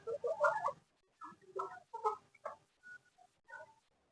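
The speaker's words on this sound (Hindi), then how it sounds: "ये जी सारी मुर्गियां बाहर आ चुकी हैं" Hens released from their cage cluck in short, bursty calls outside the coop during their morning feed, several close, separate clucks with brief pauses between them and no talk.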